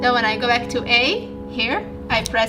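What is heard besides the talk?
No everyday noises stand out.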